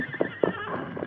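A short radio-drama horse effect: two or three close whinnying snorts over light hoof clops, heard alone without voices.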